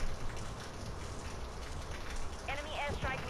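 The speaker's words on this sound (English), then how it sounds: "It's always raining, y'all." Steady, close rain hisses across the whole stretch in the Call of Duty video game, with a few brief chirpy voice-like sounds near the end.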